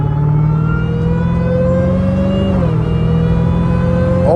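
Dodge Challenger Hellcat Redeye with an 800 hp supercharged V8 burbling at low RPM, a steady deep rumble with smooth droning harmonics, close and loud, a slight pitch dip midway and no talking.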